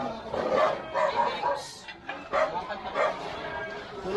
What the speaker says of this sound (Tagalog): Ay, wag, may aso pa pala sa taas.